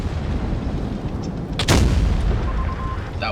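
A tank cannon shot in World of Tanks Blitz fires once midway, a sharp loud boom with a rumbling tail over steady game background noise and a brief tone afterward.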